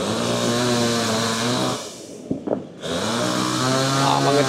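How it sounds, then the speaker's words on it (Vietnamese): Chainsaw cutting a tree on a storm-battered beach at Thuận An, Huế, a loud sustained buzzing whine that drops briefly as the cut eases, with a few knocks, then roars back at full throttle. "mà người ta cưa cắt cây."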